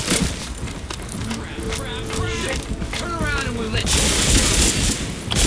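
Rapid gunfire in Tom Clancy's The Division, dense bursts of automatic shots and booms crackling continuously, with a player's voice speaking over the shooting.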